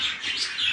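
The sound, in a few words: pigeons in a bird coop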